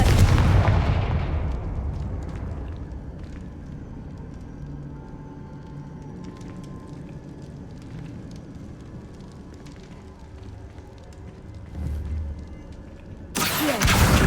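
A Confringo blasting spell in the Hogwarts Legacy video game bursts loudly at the start, its explosive roar fading into a long, low rumbling tail, with another sharp blast arriving near the end.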